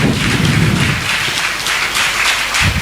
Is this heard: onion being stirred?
no